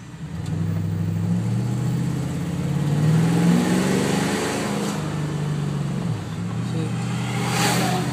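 A 5.8 liter engine revs in a steady low rumble, swelling and easing as the throttle is pushed and released, loud and close with no talk over it.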